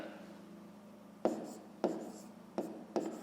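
A pen writing out a fifth-grade math problem on paper, heard as four short, quiet scratching strokes spaced about half a second apart against a faint, still room.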